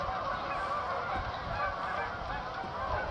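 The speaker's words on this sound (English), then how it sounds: "it sounds like a flock of birds" A flock of geese-like birds honks continuously as a staged sound effect in a theatre play performed in Saudi Arabia, a dense, steady chorus of overlapping calls with no talk.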